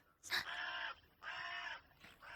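A person imitates a crow with three harsh, nasal caws in a row, close and fairly loud, with brief pauses between them.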